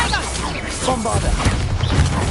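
Bombarda blasting spell cast in the Hogwarts Legacy video game, short bursts and whooshing impacts mixed with the caster's voice and overlapping combat effects, fairly loud and busy throughout.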